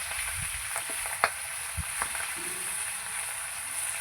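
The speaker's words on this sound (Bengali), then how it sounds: "এই যে কাতলা মাছের মাথাটা দিয়ে দিচ্ছি কড়াইতে।" Catla fish head frying in hot oil in a wok, a steady hiss and sizzle with a few sharp pops and spatters, close and fairly quiet.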